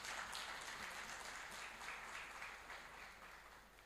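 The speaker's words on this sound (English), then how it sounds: "I think you should clap for that also." Audience applause at an agricultural finance anniversary celebration, a steady wash of clapping from a crowd held at an even level for a few seconds, with no speech over it.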